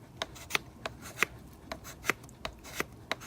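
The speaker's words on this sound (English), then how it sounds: "if I take the dull side of this scraper" The dull side of a scraper drags down ligustrum bark in short, rough scraping strokes, repeated roughly every third of a second, close and fairly quiet.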